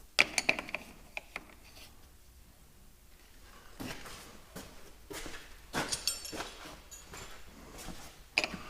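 Wrench clicking and metal parts knocking while a Farmall 806 tractor tach drive is taken apart to replace an O-ring, scattered close mechanical clacks and ratchet-like ticks that grow busier toward the end, no talk.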